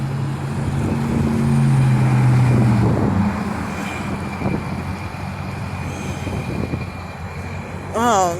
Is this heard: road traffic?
yes